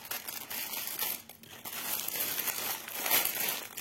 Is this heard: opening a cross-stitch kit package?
yes